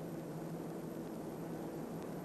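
C-47 transport planes arrive during a 1945 wartime airdrop, heard as a steady, distant engine drone with a broad, even roar and no distinct breaks.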